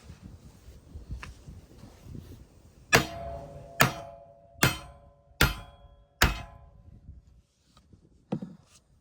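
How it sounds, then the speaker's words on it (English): A big hammer strikes a jack five times in a steady rhythm, each blow a loud ringing metallic clang with a decaying tone, followed by a couple of fainter knocks. "Big hammer."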